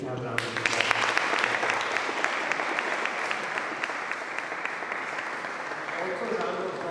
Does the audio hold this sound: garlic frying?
no